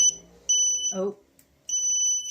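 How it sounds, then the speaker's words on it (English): A power chair's electronic warning beeps in steady, piercing tones, warning that the rear motors are not engaged, broken briefly by a short vocal sound before the beeping resumes. "that beeping is to tell me that I've not put the motors on the back"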